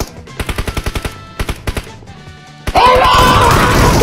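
Loud video game gunfire in bursts of rapid shots, several quick volleys with short pauses, then a sudden roaring blast and sustained crackling fire after a gasoline explosion.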